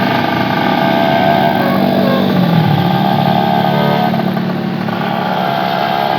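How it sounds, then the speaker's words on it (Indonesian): A Yamaha V80 motorcycle engine drones steadily while riding, loud and close, with a brief drop in pitch partway through amid wind rush. "Naik Yamaha V80 asik coy"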